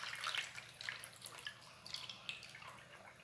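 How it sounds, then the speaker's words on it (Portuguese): Two liters of sieved used cooking oil are poured into lye made from caustic soda dissolved in water for homemade soap, a faint, close trickle with small splashy drips. "Temos 2 litros de óleo que já vou colocar."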